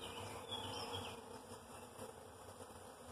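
Honeybee workers and a few drones swarm around an opened honey super lifted from a hive, giving a steady, dense, close buzzing drone that holds evenly with no voices.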